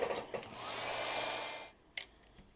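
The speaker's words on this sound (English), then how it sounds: "I'm gonna try to dry these images" A heat tool blows a steady, whooshing stream of air over stamped card images for nearly two seconds, then cuts off, leaving a few soft handling taps.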